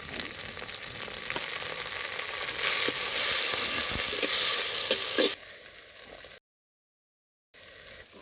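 Chopped tomato with green and dried red chilies sizzling and frying in a pan in a village kitchen, a steady loud hiss with stirring scrapes, the sizzle dropping away near the end with a brief silence.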